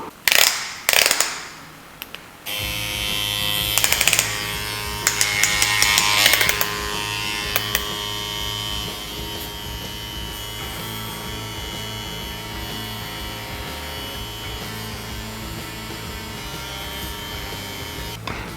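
An X-Net Vipera tattoo machine, a large pen-style rotary, gives a few sharp mechanical clicks and then settles into a loud, steady, close electric buzz that runs on without a break.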